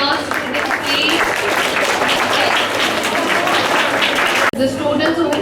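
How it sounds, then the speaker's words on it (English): Crowd applause at a school award ceremony, dense and continuous clapping that holds at high level, with a sudden brief break before it resumes, and some talk mixed in. "They truly deserve a round of applause for this"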